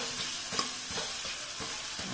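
Winter greens sauté in hot oil in a pan, with a soft sizzle running underneath. A utensil stirs in a few quick scraping strokes at a steady rhythm. Fairly quiet and close, with no voices.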